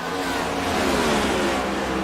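Race cars accelerate up the S's at Watkins Glen, a loud, continuous, high-pitched engine roar with rising pitch as several cars climb through the section, no talk over it.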